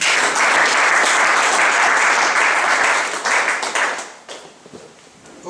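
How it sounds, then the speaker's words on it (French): A church congregation claps in broad, sustained applause at a Sunday service, loud and dense for about four seconds before tapering off into scattered claps. "Nous acclamons le Seigneur."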